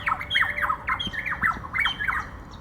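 Varied honeyeater calling in a coconut grove, a rapid series of loud, repeated squawking notes delivered in quick rhythmic bursts close to the microphone.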